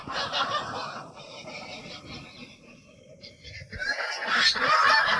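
Ducks quacking in a noisy, overlapping chorus, close by, swelling louder toward the end.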